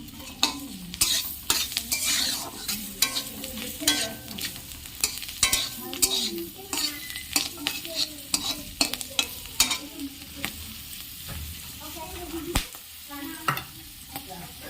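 Garlic, black cumin and three green chilies frying in butter, with steady sizzling under frequent sharp clinks and scrapes of a spoon stirring the pan, close and lively, no talk.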